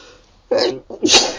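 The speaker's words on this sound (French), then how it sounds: "Il a éternué en public." A person sneezes nearby: a quick intake then two sharp explosive bursts in close succession, loud and alone with no talk.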